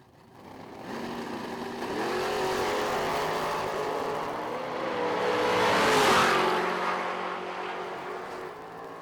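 A drag racing car accelerates down the strip at a summer shootout event, a loud sustained engine roar with rising pitch that swells, peaks as it passes nearby, and then fades slightly.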